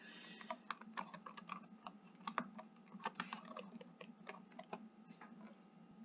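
Keys clacking on a computer keyboard as a band name is typed into a music app's search box, a steady run of close, crisp taps with small pauses, no voices.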